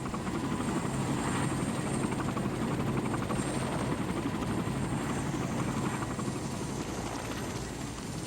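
A military helicopter drones steadily overhead, its rotor chop loud and continuous throughout with no breaks and no talk.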